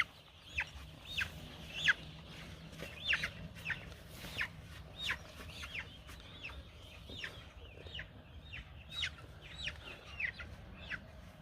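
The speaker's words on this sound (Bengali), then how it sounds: "রায়হান পাঁচটা নিয়ে যাচ্ছে খাঁচায় উঠাই দেওয়ার জন্য ভ্যানে উঠায় দেওয়ার জন্য মুরগি" Sonali chickens clucking repeatedly at a moderate distance on a farm, being caged and loaded onto a van, short rising calls overlapping in an irregular rhythm over a quiet background.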